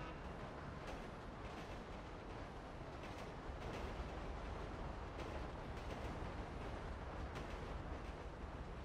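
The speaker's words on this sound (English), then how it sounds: "There's a new conductor on this train." A train rumbles past in the video game GTA V, a dense, steady roar with periodic clacks, loud and continuous without voices.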